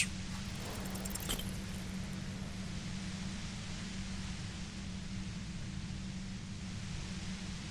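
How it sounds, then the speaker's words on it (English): Steady broadband hiss near a compressor in the Disco Elysium video game, a constant even wash of noise over a low hum with one brief click early on, no voices. "The violet white noise becomes even more overwhelming closer to the compressor."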